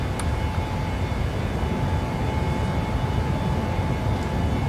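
A Frontier airliner climbs out after takeoff from Orlando, its engines a steady, even roar with broad rushing noise and a faint tonal hum, no voices present.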